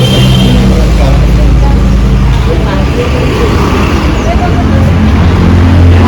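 An auto-rickshaw pulls up amid road traffic, a loud continuous low engine rumble close by, while people talk over it.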